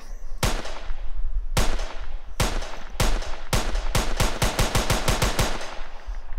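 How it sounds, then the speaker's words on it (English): Gunshots from a weapon in an Unreal Engine 4 game project, loud sharp cracks firing first as spaced single shots, then speeding into a rapid burst of about a dozen shots, with no talking. "So that's going to give us our gunshot sound."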